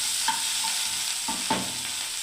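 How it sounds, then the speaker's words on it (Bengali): Okra (bhindi) frying in a pan on a gas stove, a steady soft sizzle throughout, broken by a few sharp scraping stirs of a spatula against the pan. "আর এখানে বন্ধুরা দেখুন ভেন্ডিটা এখনও ভাজা হচ্ছে"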